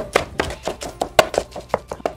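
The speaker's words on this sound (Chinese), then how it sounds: "2颗漂亮的卤蛋也剁碎。" A knife chops braised eggs on a cutting board for a meat-filled flatbread, about ten sharp, fairly loud strikes in a steady, slightly uneven rhythm, close by with no talking.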